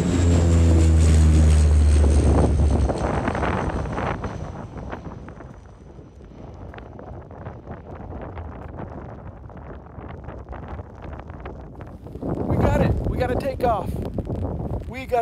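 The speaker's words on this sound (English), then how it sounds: "That's the Widerøe plane going to Malta." A Widerøe propeller plane at the airport in Kirkenes, Norway, heard outdoors: a low droning tone at first, then gusty wind buffets the microphone before a broad roaring swell from the aircraft returns toward the end.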